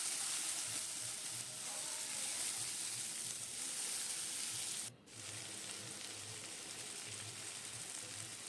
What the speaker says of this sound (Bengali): সজনে ডাঁটাগুলো দিয়ে ভালো করে কষাতে হবে একটু ভাজতে হবে